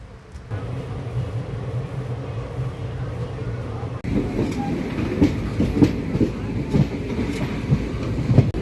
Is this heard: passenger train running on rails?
yes